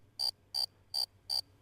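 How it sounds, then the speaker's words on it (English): Crickets chirp in a steady, evenly spaced rhythm, five sharp bursts in quick succession against a quiet background. "Nope, it was just crickets."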